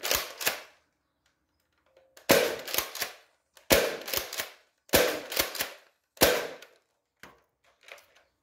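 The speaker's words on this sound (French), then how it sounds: "je vais vous remontrer le Orbit, l'édition Respawn débridé avec 2 coups de chacun" An unlocked Nerf Orbit Respawn edition blaster fires sharp, loud, close pops in quick clusters of two or three, separated by silent gaps, followed by a few fainter clicks at the end.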